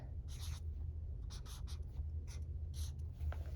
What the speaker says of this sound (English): Let's write it.